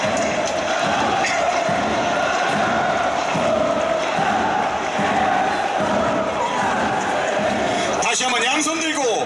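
Football stadium crowd at an Incheon United versus Sangju Sangmu K League match, a loud continuous roar of cheering and chanting with rhythmic clapping, with an amplified announcer's voice over it throughout.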